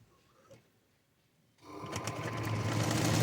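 Shoulder seams of a princess-cut blouse are stitched on a sewing machine that starts after a quiet moment and runs in a steady, close, rising whir to the end.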